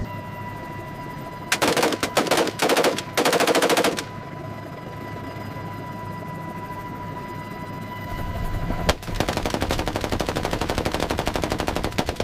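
Gunshots are fired from a low-flying helicopter at a wild boar over wetlands. Two clusters of loud, rapid shots cut through the steady drone of the aircraft's rotor.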